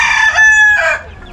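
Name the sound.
rooster crowing in rooftop chicken cage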